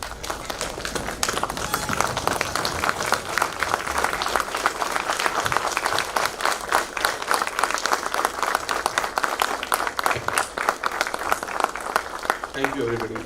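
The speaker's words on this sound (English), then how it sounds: "we should give a standing ovation to them" Audience at a trauma and mass casualty workshop at BHU gives a standing ovation, sustained loud clapping from a crowd that runs steadily throughout, with a voice speaking over it.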